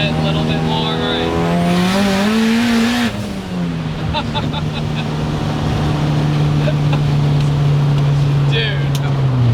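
A 600HP Ford Escort with a Miata-derived engine revs loudly and steadily, the pitch swooping up then holding a sustained high drone, as people talk nearby.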